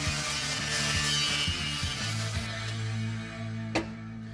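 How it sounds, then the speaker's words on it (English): A bandsaw cuts through a steel crossmember on a 2010 Chevrolet Silverado in a garage shop, giving a steady mechanical drone with a rasping edge that runs for several seconds and ends in one sharp clunk. "cut the crossmember. We're using a bandsaw"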